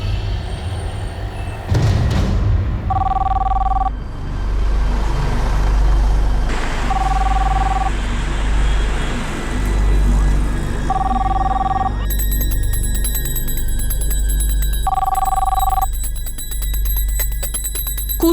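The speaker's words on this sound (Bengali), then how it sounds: "ল্যান্ডলাইনে এসেছে মা, আমার ফোন তো হতেই পারে না।" A landline telephone rings in repeated double-tone bursts, four rings spaced a few seconds apart, sounding clearly over a steady low rumble and room noise inside a home.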